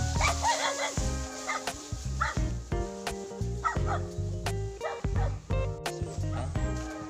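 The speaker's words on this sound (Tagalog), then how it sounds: "huwag na tayong tumuloy kasi may aso" A dog barks repeatedly nearby in a rural setting, with sharp rapid yaps and whimpering, loud and insistent throughout.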